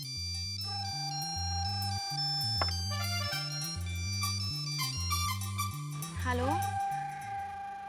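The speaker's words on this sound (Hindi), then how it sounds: "हाँ ये मिस्टर आदित्य रामचंद्रन का ही फ़ोन है" Mobile phone ringtone, a bright repeating electronic melody with a steady bass pattern that loops for several seconds, loud and close, with a rising chime flourish near the end.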